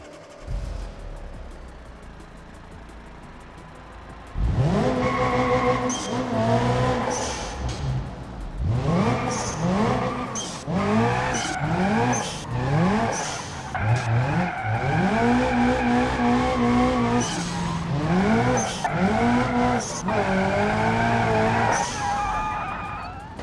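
A drift-tuned car in BeamNG revs hard and slides, tires squealing in repeated long wails over a loud, rising and falling engine note after a quieter opening few seconds.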